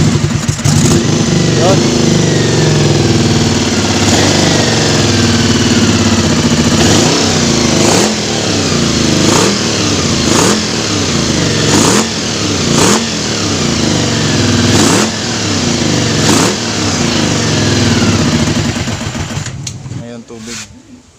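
A Honda VFR400 motorcycle with a hard-start and no-idle fault catches and is revved in a series of sharp throttle blips, loud and close, running steadily for about twenty seconds with people talking over it before it cuts off.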